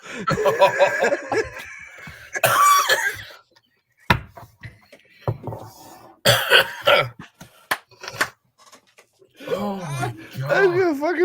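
Several harsh coughs break out between stretches of talking, with short pauses and a bit of chuckling near the end.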